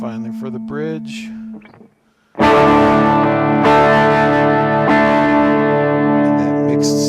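Frank Stallone electric guitar on its bridge pickup rings out sustained, distorted chords with chorus-like shimmer, loud and close, after a short bit of talking and a brief pause.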